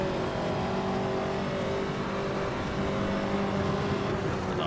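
A Ferrari 288 GTO in Assetto Corsa revs hard with its turbocharged engine, a loud, steady, sustained drone holding a high, buzzing pitch throughout, with no voices over it.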